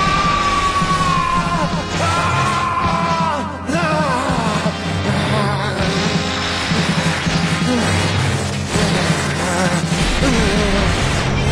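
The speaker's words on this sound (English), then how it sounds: "Gohan screamed." Anime character Gohan lets out a long, loud, continuous scream that rises and wavers while transforming into Blue Super Saiyan, layered over crashing impacts and dense, roaring background sound throughout.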